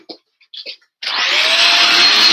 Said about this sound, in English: Hopefully, I don't vacuum up the cable.